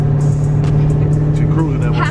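A Dodge Hellcat cruising along a city road, its engine giving a steady, low droning hum throughout while people talk over it inside the car.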